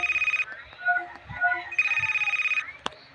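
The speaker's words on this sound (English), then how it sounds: "I'm not answering that phone again." A phone ringtone chirps in repeated pulsed bursts, with a pause between two ringing passages and a brief click near the end, fairly close and clear.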